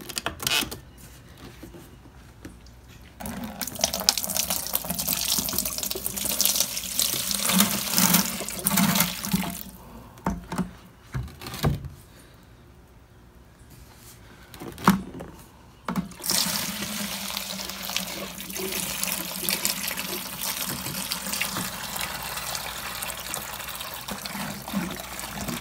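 93 octane gasoline pours into a bucket in a steady liquid rush, broken by several pauses and brief splashes before the stream resumes and runs on.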